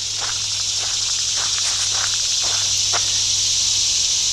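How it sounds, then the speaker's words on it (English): Annual cicadas in a swamp drone in a steady high-pitched hiss throughout, a dense continuous insect chorus with faint rustling steps underneath, no voices. "All that noise you hear, that's the cicadas."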